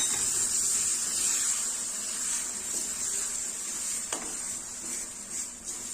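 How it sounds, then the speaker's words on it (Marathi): Spice masala with tomato puree, besan and coconut being sautéed in oil in a pan, a soft steady sizzle and hiss at moderate distance with occasional light stirring scrapes. "साधारण एक मिनिटभर आपल्याला हे व्यवस्थित असं परतून घ्यायचं"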